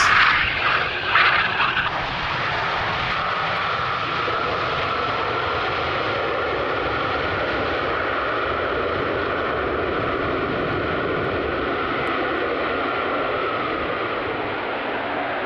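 An airplane lands on runway 27 at Amsterdam Schiphol Airport on a windy day, its engine roar loud and sustained throughout, with a rougher surge at the start before settling into a steady broad rumble.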